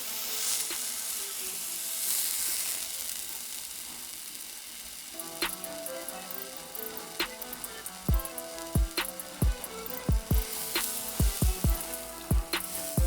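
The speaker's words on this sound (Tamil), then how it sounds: "இப்போ இது எல்லாத்தையும் நல்லா வதக்கிக்கோங்க" Shallots, crushed garlic and curry leaves sizzle with mustard seeds in hot oil for a Tamil hotel-style tiffin sambar, a steady close frying hiss punctuated by sharp popping crackles that grow frequent in the second half.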